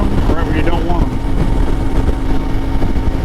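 An Ibex 450 motorcycle fitted with an aftermarket exhaust rides along, its loud, steady engine drone mixed with wind rush and a voice talking over it.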